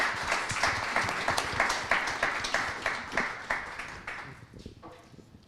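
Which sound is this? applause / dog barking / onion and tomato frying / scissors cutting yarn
applause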